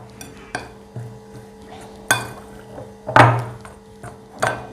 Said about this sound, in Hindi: इसको इस तरह मिक्स करेंगे।